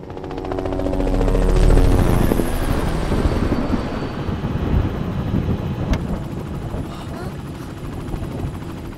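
A helicopter flies nearby, its loud rotor chop and engine whine swelling and then holding steady, with wind noise buffeting the microphone.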